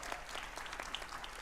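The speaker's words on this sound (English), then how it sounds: "just give a big round of applause to our wonderful Executive President and Vice Chancellor" A crowd applauds at an inauguration ceremony for a university start-up and innovation cell, a short, faint, dense patter of many hands clapping.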